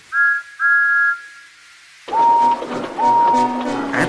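A toy steam engine whistle for Thomas the Tank Engine sounds two short, bright toots, then a pause of near silence, then two more toots over busy background noise.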